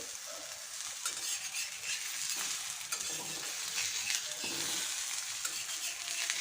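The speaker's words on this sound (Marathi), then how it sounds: "आपण साईडने थोडं तेल लावून घेऊया आणि छान असा खरपूस दोन्ही साईडनी भाजून घ्यायचा आहे" Sweet potato thalipeeth roasts in oil on a pan, with a continuous close sizzle and intermittent scraping and tapping from a spatula.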